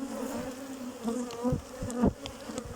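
Honeybees from an opened hive colony buzz close by in a dense, steady drone, with individual bees darting past in louder swells.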